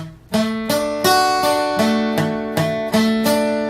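Eight plucked guitar chords on badly fretted strings, strummed at a steady pace, each note ringing with a buzzy, slightly muted edge rather than a clean tone.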